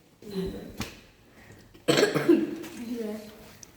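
A few harsh coughs from one person with a cough of two to three days, fairly close and loud, with a brief pause between bursts.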